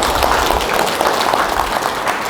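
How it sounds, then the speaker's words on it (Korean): Seated audience at a public history lecture gives sustained applause to welcome the lecturer, a steady, even wash of clapping filling the hall. "큰 박수로 강사님을 모시겠습니다."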